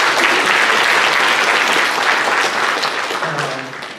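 Sustained applause from a church congregation at a 30th-anniversary worship and testimony service, a dense wash of many hands filling the room and tapering off toward the end.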